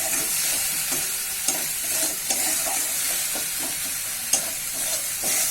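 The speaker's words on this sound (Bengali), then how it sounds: "ভালো করে মশলাটা কষিয়ে নেব।" Spice paste of ginger, cumin, garlic, onion and dried chili powder fries in hot oil with a steady close sizzle, broken by a few sharp scrapes as it is stirred in the pan; no one speaks.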